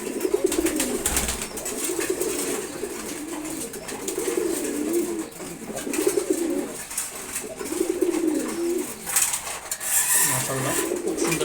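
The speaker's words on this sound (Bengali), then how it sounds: "এটা নর কবুতর, খুবই ফ্রেন্ডলি এই কবুতরটা" A tame male pigeon giving repeated deep, rolling coos in bursts of a second or two, close and clear, with some light rustling and handling noise between the calls.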